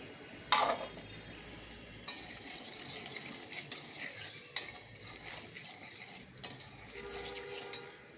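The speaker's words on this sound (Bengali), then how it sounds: "ফাটছে, কালো জিরে দিলাম, শুকনো লঙ্কা দিলাম" Nigella seeds and dried red chilies spluttering in hot oil, a quiet crackle with a few sharp pops and utensil clinks scattered over about eight seconds.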